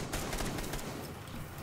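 Gunfire in Rainbow Six Siege, a short burst of several rapid, sharp shots close by, followed by quieter background game noise.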